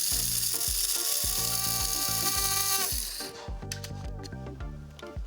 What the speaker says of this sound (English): Shut the lid, and I'm just gonna grind it.